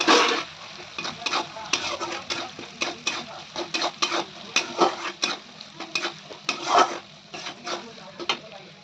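A spoon scrapes and stirs spice masala of cumin, chili powder, salt and turmeric frying in a pan, in repeated close strokes over a steady low sizzle.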